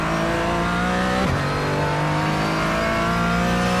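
A race car accelerates hard out of a chicane, its engine note close and loud with a brief gear-change dip, then climbing steadily as it powers away.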